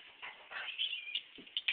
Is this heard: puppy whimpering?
yes